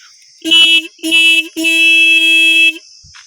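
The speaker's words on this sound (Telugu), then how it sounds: "ఒకసారి హార్న్ సౌండ్ కూడా ఏనండి" Horn of a 2018 Royal Enfield Classic 350 motorcycle, pressed in three loud, close honks: two short blasts followed by a longer sustained one, with a steady idle hum underneath.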